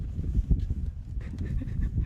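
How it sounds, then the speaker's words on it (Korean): A dog panting close by while greeting someone arriving at a farmhouse on a small island fishing village, its quick breaths mixed with soft rustling and a few faint movements. "멍멍이가 또 제일 처음 마중 나오네"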